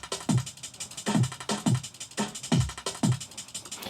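A programmed drum loop from a Yamaha SEQTRAK with crisp hi-hats in a swung, shuffling rhythm over punchy low kicks, repeating evenly and fairly loud.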